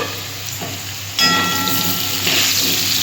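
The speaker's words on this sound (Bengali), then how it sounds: "আমি আলুটা আরেকটু ফ্রাই করে নেব" Potatoes frying in oil in a covered pan, a steady close sizzle that grows louder and brighter partway through as the lid is lifted.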